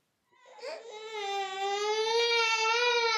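An infant cries in one sustained, high, wavering wail that starts after a brief silence and holds loud and close, with no other sounds around it.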